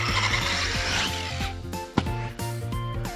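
A PR Racing S1V3 radio-controlled car sends out a high whining motor roar as it speeds toward a jump. A sharp clack marks the takeoff or landing, then the whine picks up again in short bursts.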